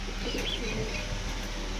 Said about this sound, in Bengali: এইটা হচ্ছে সিরাজির বাচ্চা, হচ্ছে সিরাজি কবুতরের বাচ্চা।